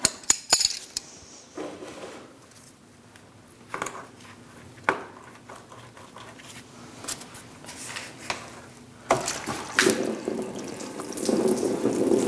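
Coolant trickles and splashes from a lower radiator hose into a drip pan on a 2000-2006 Mini Cooper 1.6L, with irregular drips and clinks that build to a steadier stream near the end.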